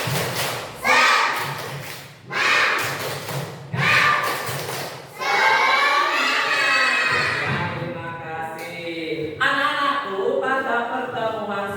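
A classroom of children performing a rhythmic spirit clap: several sharp bursts of group clapping in a steady pattern, followed by children chanting and cheering together, loud and close in a room.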